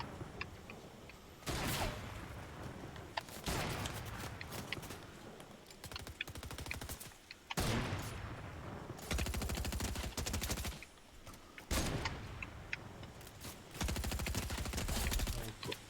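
Repeated bursts of automatic gunfire from a Fortnite match come in rapid rattling volleys separated by brief lulls. The shots sound fairly quiet and distant over a faint game background.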